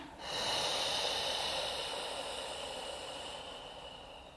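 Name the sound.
deep breathing during a pregnancy breathing exercise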